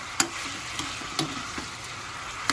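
Pork adobo with pork chop and fatty bits sizzles steadily in a pan while a utensil stirs it, making several sharp scrapes and clanks over the frying. No voices.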